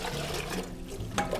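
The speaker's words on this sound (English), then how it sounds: "In with the water" Water pours into a large soup pot, five pints for cabbage soup, making a steady close rushing splash that runs the whole moment with a brief louder surge near the end.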